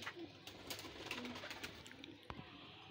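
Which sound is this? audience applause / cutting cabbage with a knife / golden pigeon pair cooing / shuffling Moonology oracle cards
golden pigeon pair cooing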